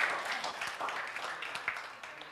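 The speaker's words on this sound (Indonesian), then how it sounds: "Tepuk tangan dong buat anak-anak Teens yang luar biasa ya." Church congregation at a Sunday service applauding children from the Teens group, a moderate, scattered patter of clapping running throughout, with voices mingled in.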